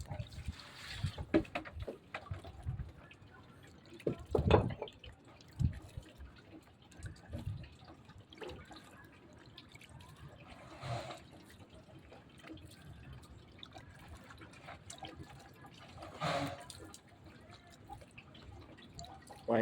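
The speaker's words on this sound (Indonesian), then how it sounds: "disiram dengan ekoenzim dengan rata biar bisa meresap sampai ke bawah" Irregular drips and small splashes of eco-enzyme liquid poured evenly over kitchen-waste compost, scattered soft plops and trickles spaced across a quiet background, fairly close and faint.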